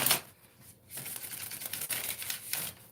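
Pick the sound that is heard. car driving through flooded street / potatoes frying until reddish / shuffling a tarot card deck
shuffling a tarot card deck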